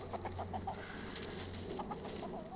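Hens clucking in short, repeated bursts over a steady background hum, several birds close by with no talking.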